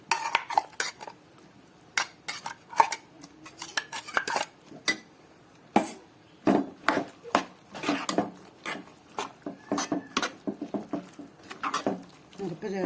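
Masala paste is stirred into a Palakkad-style masala curry in a cooking pot, with a spoon giving repeated close clinks and scrapes against the pot in an uneven rhythm.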